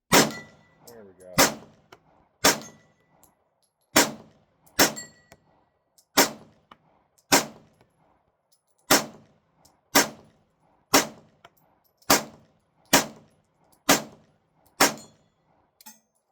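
Repeated gunshots from a Smith & Wesson each followed by a bright metallic ring off a steel target, about a dozen sharp cracks spaced roughly a second apart with brief ringing tails, outdoors with no talking.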